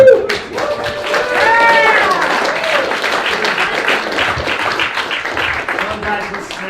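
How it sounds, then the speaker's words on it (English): Steady applause from an audience fills the whole stretch, with a voice rising briefly over the clapping near the start. "Round of applause."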